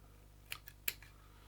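Scissors snip away waste material while a salmon banana tube fly is tied: two quick crisp snips close by with a few faint clicks between, in an otherwise quiet room.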